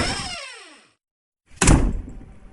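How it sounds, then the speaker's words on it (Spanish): A door slams shut once with a sharp, loud thud that lingers briefly, coming after a stretch of silence that follows a fading, descending whoosh. "salió corriendo a su cuarto, cerrando la puerta de un portazo"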